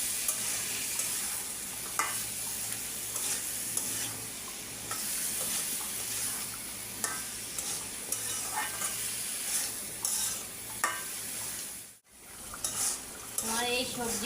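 Mixed vegetables sautéing in a pan for a simple Bengali-style curry, with a steady broadband sizzle, repeated stirring scrapes and occasional utensil clinks against the pan, close and continuous throughout.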